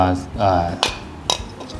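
Metal clinks and clicks as a gas valve head is pushed into a portable gas stove and twisted to lock, a few sharp close knocks with a voice talking over the start.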